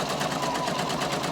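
A sewing machine stitches through a synthetic polyester-like sheet, producing a rapid, even mechanical chatter that runs continuously and close for a brief moment with no talking.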